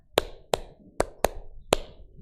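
Five sharp, evenly spaced hand claps from a group playing a clapping game in a classroom icebreaker, each clap crisp and close, with no talk in between.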